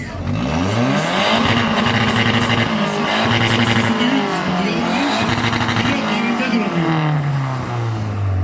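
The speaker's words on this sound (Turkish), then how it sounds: "Biraz egzoz sesi duymak istiyoruz" An off-road race car engine revs and roars loudly and continuously at a championship start ceremony, pitch rising and falling through repeated throttle changes, with crowd noise underneath.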